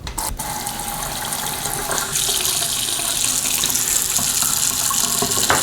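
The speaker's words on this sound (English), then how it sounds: "So make sure your water runs as hot as you can get it." Hot water gushes steadily from a sink tap into a basin before a cast iron pan is cleaned, a loud, close, continuous splashing hiss with a slight rise partway through.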